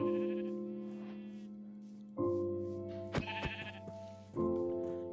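Synthetic-sounding Minecraft sheep bleats, a few drawn-out calls in succession, clear and close, with a couple of short thuds in between as the sheep are attacked.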